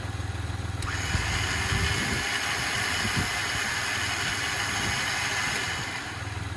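An Open Road winch drones steadily as it reels in cable on a Jeep Gladiator, a continuous close motor whine with a faint tonal edge that eases off near the end.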